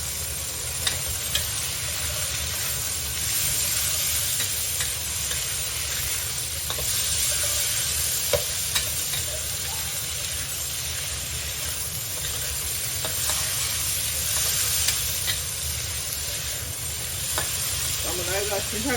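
Wood ear mushrooms and celery stems stir-fried together in a wok: a continuous close sizzle and hiss with repeated spatula stirs and scrapes, and a few sharp clicks from the metal.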